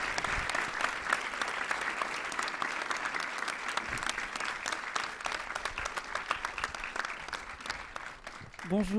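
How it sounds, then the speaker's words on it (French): Warm, dense audience applause welcoming speakers onto a conference stage, sustained and even throughout with some sharper claps close by, fading at the very end as a voice begins. "sous un tonnerre d'applaudissements"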